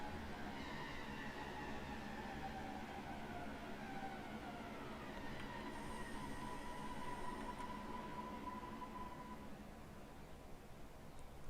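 A train in a video game, a six-car Kent Link Networker, rumbles steadily throughout with a continuous low drone and faint whining tones above, no talking, fairly even in loudness.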